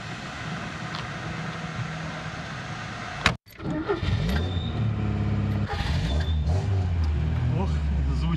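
A Lada Zhiguli car engine cranks over, briefly cuts out, then catches and settles into a steady, close, rough idle, with a voice talking over part of it.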